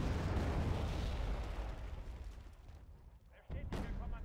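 Mortar artillery fire in the Wargame Red Dragon strategy game: a rumbling blast that fades over a few seconds, then a sharp new burst near the end, with a voice talking over it.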